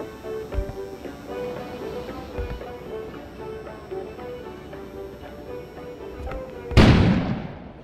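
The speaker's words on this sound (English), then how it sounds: "An explosion suddenly occurred outside." A sudden explosion outside bursts loud and broadband near the end, then decays, following a stretch of low, steady tonal background music with soft thuds.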